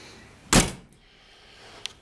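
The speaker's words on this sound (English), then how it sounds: "close the door." A single solid thunk as the door of a 1956 Daimler 104 car is shut, close and fairly loud, followed by quiet and a faint small click.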